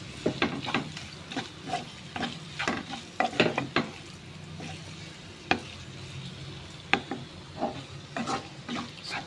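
A spoon stirring egg masala with garam masala and pepper powder in a pan, with irregular scraping strokes and soft sizzling between them, close and fairly quiet with no talk.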